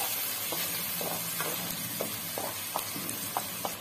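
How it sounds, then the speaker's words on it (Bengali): Onion paste fries in mustard oil while a spoon stirs it in quick, regular scrapes, about eight strokes over a continuous close sizzle. "এর মধ্যে দেওয়া হলো পেঁয়াজ বাটা তারপরে একটু নাড়াচাড়া করে নিতে হবে"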